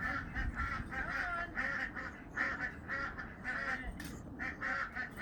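Ducks, geese and other fowl quack and honk in a noisy, overlapping racket while being chased around a farmyard pen, repeated calls pulsing steadily at moderate distance with no speech.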